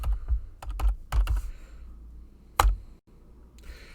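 Close fingers tap on a computer keyboard while entering a command in AutoCAD: a quick burst of several clacking keystrokes, a brief pause, then one sharp key press, with no voices.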